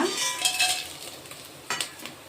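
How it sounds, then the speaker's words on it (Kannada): Whole spices, cinnamon, clove and pepper, fry in hot oil in a pan for a kushka breakfast dish, giving a soft close sizzle with brief stirring scrapes and a sharper clatter near the end. "ಒಂದೇ 1 ನಿಮಿಷ ಫ್ರೈ ಮಾಡ್ಕೊಳ್ಳೋಣ"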